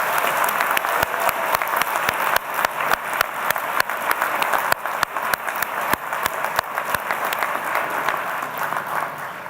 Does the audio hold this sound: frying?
no